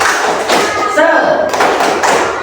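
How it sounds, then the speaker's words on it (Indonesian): A class claps together in a group spirit cheer, a burst of loud patterned claps and thuds. Voices chant along with the claps. "Kita tepuk semangat dulu ya."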